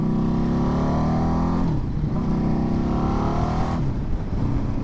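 A 2008 KTM RC8's loud, throaty V-twin engine pulls steadily, rising in pitch as it accelerates, dropping briefly at gear changes before climbing again, heard close up.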